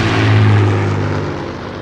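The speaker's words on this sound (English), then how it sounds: "He heard a plane approaching." A British propeller plane drones steadily and loudly overhead in wartime German-occupied Norway, its low engine hum holding strong and then easing slightly as it passes.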